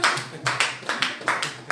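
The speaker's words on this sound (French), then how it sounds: "on acclame pour lui." A church congregation claps together in a steady, rhythmic beat, each sharp burst of hands landing about every quarter second, close and lively.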